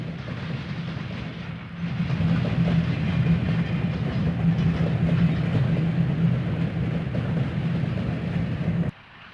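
Electric interurban train number 661 crosses Snake Road pulling a Western Pacific boxcar, a steady loud rumble and roll with low clatter building up near the start and cutting off abruptly near the end.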